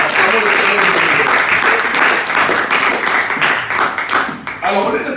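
A church congregation at a Sunday service claps and applauds loudly together, a dense, sustained wash of clapping with voices mixed in.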